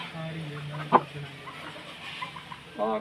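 An Aseel rooster clucks a few short, quiet notes, with one sharp louder burst early on, while people talk nearby in the background.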